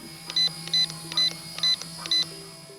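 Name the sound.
RC helicopter transmitter trim long beep at center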